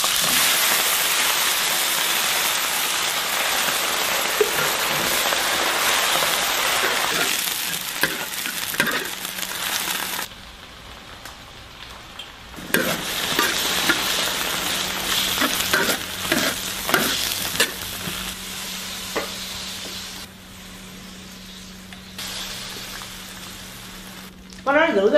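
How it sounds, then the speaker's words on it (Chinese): Pork cracklings and vegetables stir-fried in lard in a wok, loud continuous sizzling with repeated stirring and scraping, dropping quieter at moments before surging again, up close. "猪油炒菜香些，先下点油渣"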